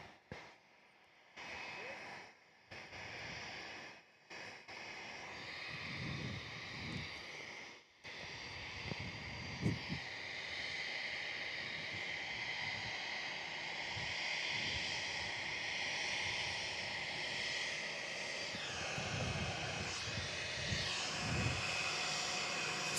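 An aircraft at Perth Airport rolls for takeoff, a broad, steady engine roar heard from a distance that builds and holds through the second half, with intermittent voice activity and gusty noise early on.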